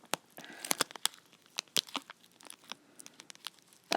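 Stubborn plastic Ziploc bag, part of a bead box unboxing, pried open with a string of sharp crinkling, crackling and tearing bursts, close and fairly quiet, with irregular pauses between the snaps.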